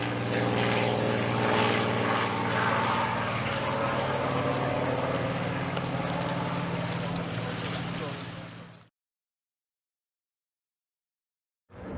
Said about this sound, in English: single-engine, highly maneuverable propeller planes